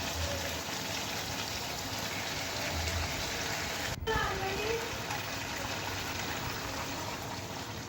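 Water is poured into a pan of fish curry as a steady, continuous splashing rush with a brief gurgle partway through, close and fairly full.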